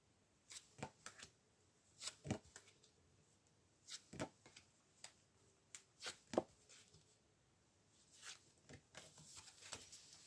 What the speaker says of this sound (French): Maintenant, on va tirer des cartes sur le secret.